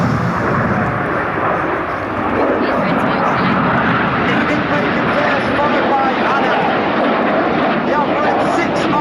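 Red Arrows jets of the synchro pair at an air show: a loud, continuous jet-engine roar sustained across the whole stretch, with a commentator talking over it.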